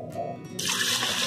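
Water is poured into a pot of washed horse gram, a short trickling splash that starts partway through after a brief tonal sound and then continues briefly at close range.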